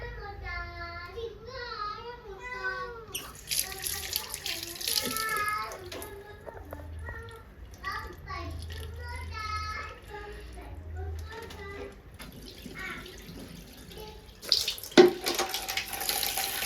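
Running tap water pours steadily while fresh fish, bloody from cleaning and with the head washed separately for curry, is rinsed in a sink; someone talks throughout over the continuous splashing flow.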